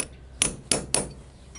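Three sharp metallic taps on a motorcycle sprocket nut's lock tab, evenly spaced and close, each with a short ringing decay over a low background hum.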